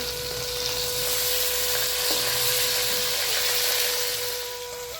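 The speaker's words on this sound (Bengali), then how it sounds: "ওই পাশে মাছটা ভেজে নিচ্ছি" Boal fish frying in hot mustard oil, a steady, bright sizzle held close at an even level with a faint tonal hum underneath, easing off slightly at the end, with no talking.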